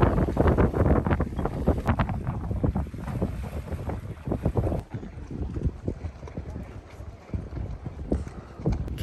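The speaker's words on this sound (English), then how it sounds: "Came into Mermaid Reef under sail" A sailboat under sail arriving at Mermaid Reef, with wind buffeting the microphone, water rushing along the hull and irregular knocks and flapping of rigging, close and fairly steady, with some voices in the background.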